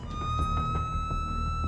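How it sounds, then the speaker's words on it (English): Siren from a private car, not a police vehicle, wailing steadily and loudly over a low rumble of road and engine noise while it chases a truck on a highway. "he turns on sirens and lights to chase after the truck"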